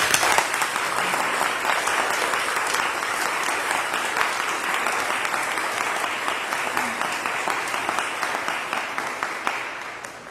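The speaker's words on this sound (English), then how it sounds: "Let's give these folks a round of applause." A crowd at the Columbus County courthouse dedication ceremony applauds. The steady, dense clapping lasts about ten seconds and fades slightly near the end.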